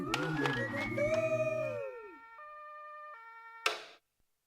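An emergency vehicle siren wails with rising and falling tones, then holds steady two-tone notes at moderate distance, ending abruptly after a brief burst.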